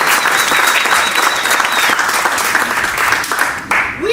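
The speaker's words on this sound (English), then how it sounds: "Give yourselves a round of applause." Applause from an audience at a Puerto Rican cultural district bill celebration with the Illinois governor, steady dense clapping filling the room throughout, tapering off near the end.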